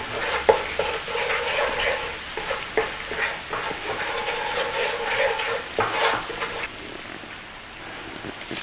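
Spices bloom in hot oil for a chicken jalfrezi, a steady close sizzle with spoon stirring and scraping through it, fading slightly toward the end; no talking.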